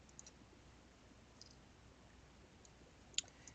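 A single sharp mouse click, quiet and close, while working in 3D UV-mapping software, with a few fainter clicks and ticks around it over a low room hiss.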